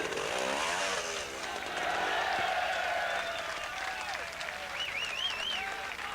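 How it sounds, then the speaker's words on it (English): Spectators at a 1987 world championship observed trials round in Les Rousses, France, cheering and whooping in the rain while a trials motorcycle engine revs and whines through the crowd noise. "A lot of the spectators are wildly cheering the riders as they ride in the rain."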